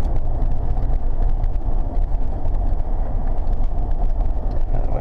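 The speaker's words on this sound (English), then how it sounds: "Let's check out the AC now." A 1996 Lincoln Town Car limousine's air conditioning blows a steady, broad whoosh of air inside the cabin, constant and moderately loud, with no talk over it.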